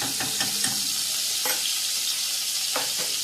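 Butter sizzles loudly in a pan as white pasta is made with carrots and chilli, with a steady frying hiss and a few scraping stirs.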